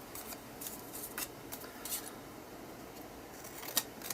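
Scissors snip through paper in a diagonal cut from corner to corner, a series of quiet, crisp bursts of snipping and rustling heard up close with no talking.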